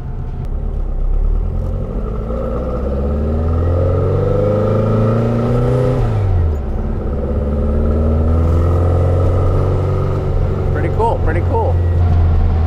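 A throaty 1963 Volkswagen Beetle engine of about 120hp rumbles steadily, revving up and easing back with a deep exhaust note, heard up close throughout.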